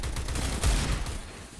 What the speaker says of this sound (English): Fitch at 12 HP and he took a shot